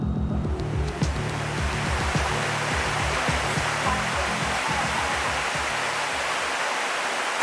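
Mukpo Falls in Caraga, Davao Oriental roars as a steady, loud wall of falling water at low water level, with a low rumbling throb running beneath the continuous rushing spray.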